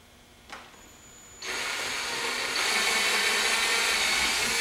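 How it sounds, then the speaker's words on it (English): A power drill whirs up close while drilling a pilot hole to fit a spoiler on a C7 Corvette, starting briefly then running steadily and growing slightly louder as it bites into material. "We're going to drill a pilot hole"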